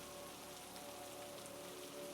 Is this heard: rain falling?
yes